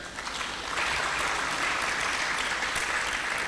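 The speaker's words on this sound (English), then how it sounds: "I thought the women would clap for their own this time around." An audience applauds at an academic gathering, a dense and even wash of clapping that swells slightly after the first moment and then holds steady.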